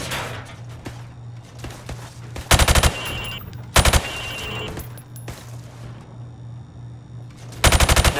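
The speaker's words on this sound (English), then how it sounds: "Stop aiming down your sights. I want to see you fire from the hip." Rifle fired from the hip in Call of Duty: Modern Warfare Remastered, heard as three loud, close bursts of rapid shots spaced a second or more apart over a low steady hum and quieter game sounds.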